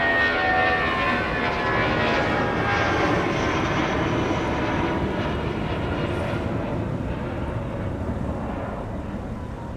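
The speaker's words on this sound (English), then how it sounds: "United getting airborne off runway 30 left with the Airbus A319." A United Airbus A319 takes off from runway 30 Left at a snowy winter airport, its jet engines producing a loud, broad steady roar that fades slightly toward the end.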